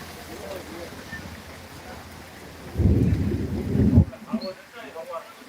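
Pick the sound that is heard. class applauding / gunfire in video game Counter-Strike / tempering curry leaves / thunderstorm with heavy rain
thunderstorm with heavy rain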